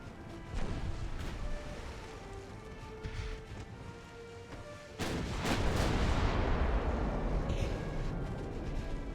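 Heavy naval gunfire from an enemy battleship in the video game Ultimate Admiral: Dreadnoughts, with booming blasts and rumbling impacts over steady background noise. A big blast midway leads into a louder, sustained roar.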